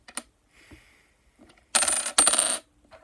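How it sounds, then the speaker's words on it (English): A clad quarter drops onto a hard surface with two quick bright metallic clinks and a short ringing rattle. Faint ticks come just before them, and a small tap follows. "And we'll drop the clad quarter."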